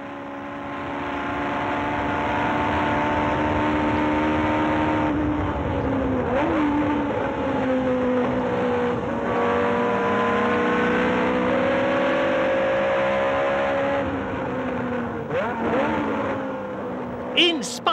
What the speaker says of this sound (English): Now the Ferrari rockets away on acceleration, passing a Brabham on the approach to the stadium.